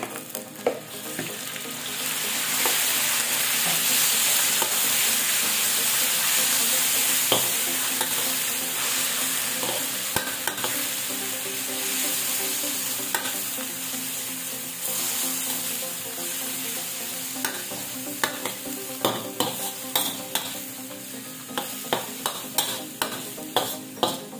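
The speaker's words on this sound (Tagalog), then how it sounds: "Lagay natin tong ating beef." Beef sizzles and fries steadily in a hot pan with onion, with a constant crackling hiss and a string of sharp stirring clatters growing more frequent toward the end.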